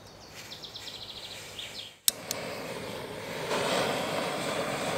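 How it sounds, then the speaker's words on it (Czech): After a sharp click, gas from a Jetboil MicroMo camping stove begins to flow, a steady broadband hiss close by that grows slightly louder and holds on. "pustím si plyn"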